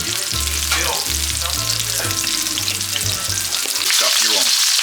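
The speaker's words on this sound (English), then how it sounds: "We're just gonna let that fry up." Chicken pieces frying in a pan for a keto dinner, with a steady loud sizzle and crackle that continues throughout, a few clinks and stirring noises breaking in, and the spitting growing brighter toward the end.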